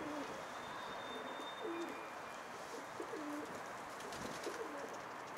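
Pigeons coo softly in repeated low phrases near a coop against a faint outdoor hiss, with occasional chirps in the background.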